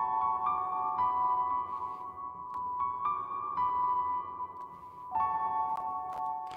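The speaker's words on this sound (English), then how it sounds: "Next up, we have a piano lead, and it sounds like this." A quiet piano lead melody for an R&B beat, with sparse single notes ringing out and sustaining in a soft, slightly processed tone, and no voices.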